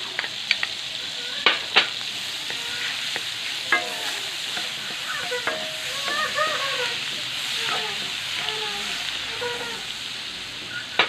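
Garlic and onion sauteing in melted butter, a steady close sizzle with occasional sharp pops and spatters, and a voice speaking faintly over the frying.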